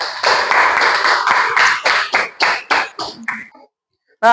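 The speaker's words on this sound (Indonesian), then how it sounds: "Kasih aplaus untuk" Classroom applause for a student, a burst of many hands clapping briskly together that thins out to a few final claps after about three seconds, followed by a short voice.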